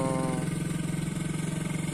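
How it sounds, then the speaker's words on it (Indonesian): A Vespa scooter engine with a minor fault runs close by, a steady, pulsing, buzzy putter at a fast idle, with no voices over it. "Jadi di video kali ini aku mau membahas tentang masalah mesin Vespa."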